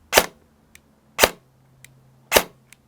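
An airsoft VFC HK MP7 electric gun gives three sharp, evenly spaced snaps about a second apart, each followed by a faint small click of the trigger resetting, close and isolated in a quiet room.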